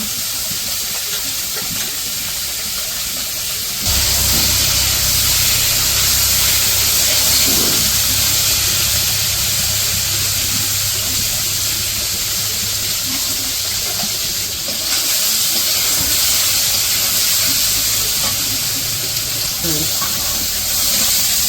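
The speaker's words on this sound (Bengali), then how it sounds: "তো মাছগুলো দিয়ে দিচ্ছে, এখন ভাইজা নিব।" Fish frying in very hot oil in a wok over a village stove, a loud continuous sizzling hiss that swells when the fish go in and stays steady.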